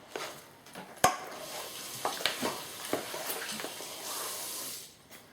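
A lasagna mixture is stirred in a pot with soft, wet scraping and sloshing, broken by a few sharp utensil knocks against the pot, fairly quiet and close.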